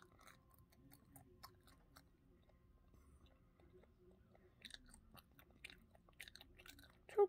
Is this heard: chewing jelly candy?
yes